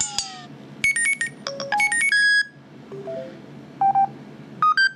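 A quick run of short default iPhone ringtone snippets plays one after another: bright chimes and melodic beeps separated by brief gaps, no voices.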